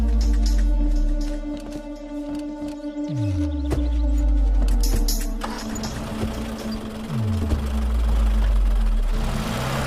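A car engine idles with a steady low hum, while faint whirring sweeps and a few sharp clicks and knocks come and go around it, with no clear voices.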